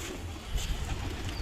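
Domestic loft pigeons give a brief, soft burst of cooing close by, a couple of low throaty pulses over a faint background hiss.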